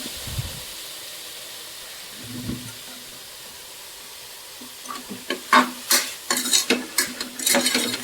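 Ingredients being stirred in a cooking pot on a home stove: a quiet stretch, then a run of sharp, close scraping and clinking strokes as a spoon works through the pot, coming in quick irregular bursts over the last few seconds.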